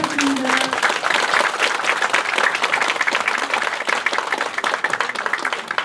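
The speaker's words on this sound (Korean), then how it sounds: "한번 큰 박수 부탁드립니다." An audience in a Sejong city hall auditorium applauds Mayor Choi Min-ho after his briefing. Loud, sustained clapping from many hands continues evenly throughout, with a faint voice at the very start.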